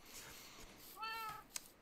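A single short cat meow from the Minecraft video game rises and falls once, quiet and brief against faint background sound.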